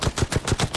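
Rapid automatic gunfire in the mobile shooter Striker Zone Mobile, about six evenly spaced loud shots in under a second.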